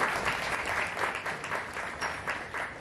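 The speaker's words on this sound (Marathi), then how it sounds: "जोरदार टाळ्या आपण स्वागत करूया" Audience at a history talk welcoming the speaker with loud, sustained applause, a thick continuous patter of many hands clapping throughout.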